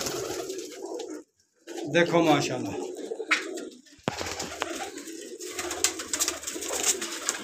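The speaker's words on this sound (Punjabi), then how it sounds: "ਲੰਮੀ ਹੱਡੀ ਬੰਦ ਜੋੜ ਦੇ ਕਬੂਤਰਾਂ ਦਾ ਸ਼ੋਅ ਕਰਾਵਾਂਗਾ ਅੱਜ ਤੁਹਾਨੂੰ ਮੈਂ।" Teddy and Golden pigeons, long-boned show birds in Lahore, give repeated soft throaty coos close by, mixed with someone talking over them.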